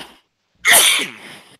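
A single loud, close sneeze bursts out sharply after a brief silence and trails off over about a second, heard on its own during a casual podcast conversation.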